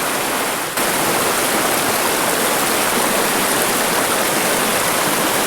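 Rushing river rapids over boulders in the Wall Street section of the Zion Narrows in Zion National Park, Utah, a loud, steady broadband roar of churning water filling the whole clip with no voices.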